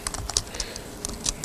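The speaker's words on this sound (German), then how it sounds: "habe ich das jetzt getippt?" Fingers typing on a computer keyboard in short uneven bursts of sharp key clicks, close and fairly quiet, with no voices.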